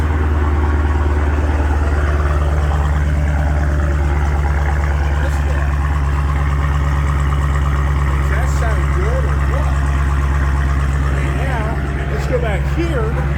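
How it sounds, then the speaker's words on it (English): A modified car exhaust rumbles steadily at idle, a loud low drone filling the whole stretch while someone talks over it. "Now listen to this exhaust."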